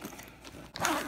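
A zipper on a flight attendant's lunch bag opens in one short, close rasping pull near the end of the sound, after a moment of quiet handling.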